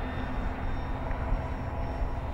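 An FMS J-3 Piper Cub 1400mm V3 radio-controlled float plane flies on a windy day, its electric motor a steady, fairly distant drone mixed with wind rumble throughout.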